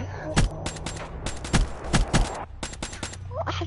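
Rapid bursts of video-game gunfire as a player shoots an enemy, several sharp loud volleys in quick succession with short gaps, close and punchy.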